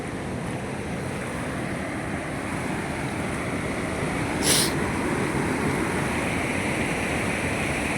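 Floodwater of the swollen Godavari river rushes past in a steady, loud broadband roar with wind buffeting, one brief sharp hiss midway, no voices.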